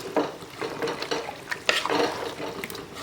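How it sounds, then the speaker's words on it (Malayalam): Beef biryani masala is stirred in a pan, giving close, continuous scraping and wet squelching strokes with occasional sharper scrapes of the utensil, and a faint sizzle underneath. "ഇനി ഇത് നന്നായിട്ട് ഇങ്ങോട്ട് മിക്സ് ചെയ്ത് കൊടുക്കുക"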